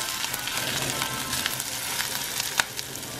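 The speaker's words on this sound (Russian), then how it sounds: "будем пассеровать где-то в течение 5-7 минут до мягкости овощей" Steady sizzling of vegetables sautéing in a pan, a continuous crackling hiss with occasional sharper pops, no talking.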